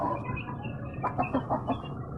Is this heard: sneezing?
no